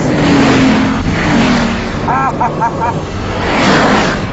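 A 1,000-horsepower Bugatti supercar accelerates at high speed in a race against a McLaren F1, its engine roaring loud and close as a continuous rush, with a voice briefly audible partway through.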